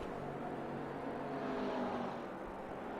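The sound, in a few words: green McLaren GT3 race car engine, from a racing video game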